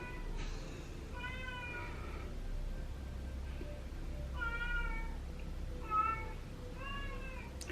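A female cat meows repeatedly from a short distance, a series of drawn-out, pleading calls spaced a second or so apart over steady low background hum, wanting to be let into the room.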